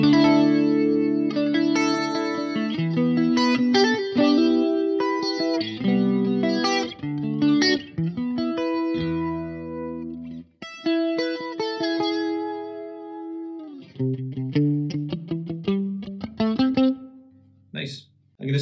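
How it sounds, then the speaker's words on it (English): A clean electric guitar through a Fender Mustang Micro plays chords and picked notes with a sweeping, swirling triangle flanger and large-room reverb tail, continuous and prominent, ending with a few sparse notes. "this is a triangle flange and a large room reverb"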